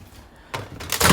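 A microwave door being opened in a home kitchen, a short mechanical clunk followed by a second louder click and rattle, close and fairly loud.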